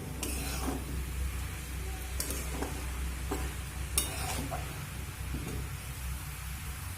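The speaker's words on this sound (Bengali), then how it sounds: "চিনি শিরার মধ্যে দিয়ে আমি 5 মিনিট মতো মিডিয়াম ফ্লেম করে নেড়ে নিয়েছি" Motichoor laddu mixture of chana dal boondi being stirred with ghee in a pan over a medium flame: a steady low sizzle with soft scraping strokes and a few sharper clinks, close and continuous, no talk.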